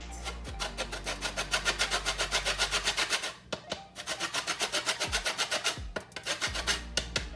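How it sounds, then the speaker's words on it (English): Whole nutmeg scraped against a grater in quick rhythmic strokes, a loud rasping back-and-forth that comes in two bursts with a short pause between them. "Then I'm just going to grate."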